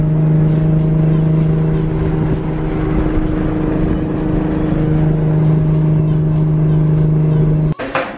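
LS-swapped Mazda Miata idling loudly nearby with a steady deep engine hum and rumble that holds for several seconds, ending with a sharp thump.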